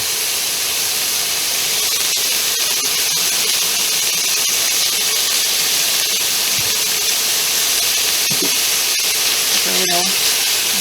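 Steak pieces sear in a very hot pan for beef stroganoff, giving a loud, continuous hissing sizzle that holds steady throughout. A few brief voice sounds occur near the end.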